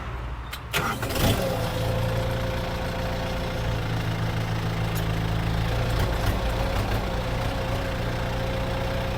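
A used Kubota M7040 tractor engine runs steadily while being driven, a low continuous diesel drone close by after a brief clunk and rev near the start, with no voices.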